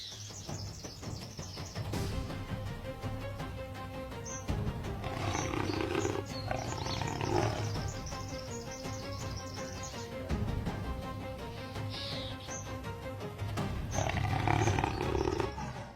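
A lioness gives deep, repeated roars with bird chirps behind them, the roaring steady and prominent throughout, out in the wild.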